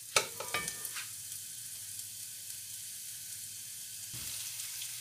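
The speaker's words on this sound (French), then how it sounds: "On va un peu cuire les oignons." Onions cooking in a pan for ratatouille, a soft steady sizzle after a few initial clattering stirs, faint and close, with no talk.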